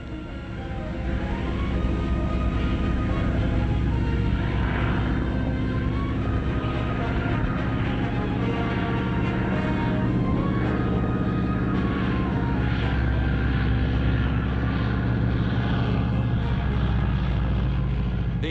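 An Army Air Corps small plane comes in to land at night, its propeller engine droning steadily and close, with fluctuating tones as power changes, no talk over it.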